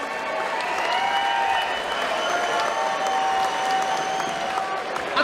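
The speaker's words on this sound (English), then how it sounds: "let's have a round of applause, please, for both these men inside the ring" Crowd at a professional boxing event applauding for two fighters in the ring, steady and sustained throughout, with a few cheers and an announcer's voice ringing over it.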